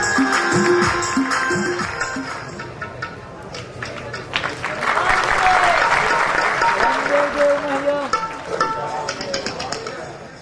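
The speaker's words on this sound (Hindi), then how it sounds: "खूब तालियां, खूब" Audience applause at a religious gathering during a shield presentation, dense clapping with a voice talking over it early on, the clapping swelling louder in the middle before easing off.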